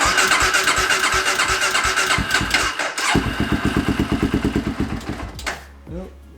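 A sport quad ATV with a stage one tune cranks over with a rapid, rhythmic chugging of the starter, close and loud, then goes quiet as a voice speaks briefly.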